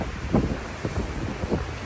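Strong wind buffets the microphone on the rugged ocean coast along the Road to Hana on Maui, a loud rushing roar with gusty thumps and no voices.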